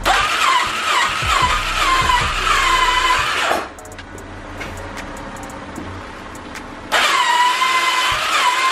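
A Yamaha Warrior 350 ATV, freshly rebuilt and choked, fires up and runs with a loud buzzing mid-pitched idle, falls away to a quieter stutter for a few seconds, then roars back to life up close.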